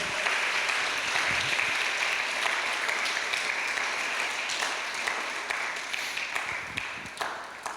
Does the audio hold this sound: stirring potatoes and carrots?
no